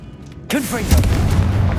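A Confringo spell blast in the Hogwarts Legacy video game erupts suddenly after a brief quiet. A loud, close burst with whooshing, chirping magical tones settles into a sustained rumbling roar.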